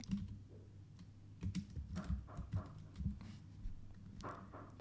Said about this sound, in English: And then I'm gonna type it